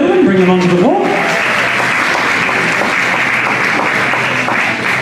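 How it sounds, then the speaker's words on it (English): Ballroom dance competition audience applauds couples taking the floor, broad steady clapping filling the hall, with an announcer's voice heard briefly at the start over it. "let's give them a round of applause, ladies and gentlemen."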